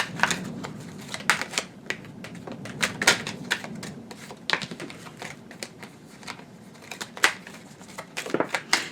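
Tarot cards are shuffled by hand: a loose, irregular patter of sharp card snaps and riffles, close and fairly loud, continuing throughout without talking.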